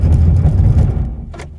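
A C8 Corvette on a cold early-morning timed run, its engine droning loud and steady up close, then easing off toward the end.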